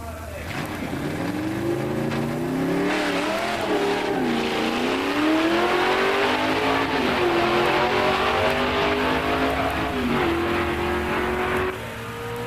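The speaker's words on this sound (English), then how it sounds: "In the near lane, Tim Davis in a 71 Dodge Demon 340 4-speed" A 1971 Dodge Demon 340 four-speed and a 1979 Camaro Z28 350 four-speed drag race at a musclecar nationals, their engines roaring loud and revving up through gear changes, with a brief shift dip, and the roar holds steady until it cuts off near the end.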